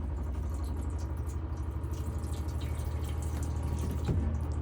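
Water runs steadily from the tap in a 2018 AutoTrail Tracker motorhome, a close continuous splash with the hum of the water pump underneath and a brief change in pitch near the end.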